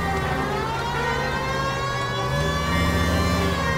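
Police car siren in LA Noire during a car chase, holding a steady, sustained tone over a droning engine, loud and continuous throughout.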